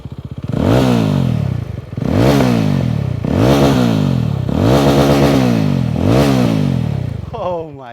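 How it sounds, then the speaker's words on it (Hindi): A Yezdi Roadster 350cc motorcycle with twin exhausts is revved hard, loud and close, in five or six sweeping throttle blips that each rise and drop away, with a short pause after the first. "मुझे लगता है कि ये सबसे बेस्ट साउंडिंग 350 सीसी बाइक होगी अपने सेगमेंट की।"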